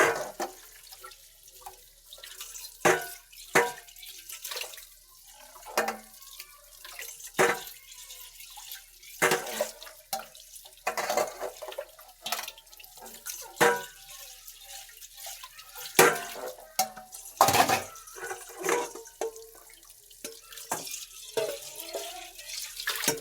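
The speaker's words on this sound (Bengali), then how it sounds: "বড়াগুলো আমি পরিষ্কার করে ধুয়ে নিচ্ছি।" Tap water splashes and drips intermittently while oily cooking pots are scrubbed and rinsed, in short uneven bursts of splashing and clanking at moderate volume, with no speech.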